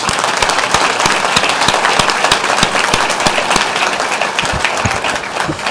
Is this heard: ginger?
no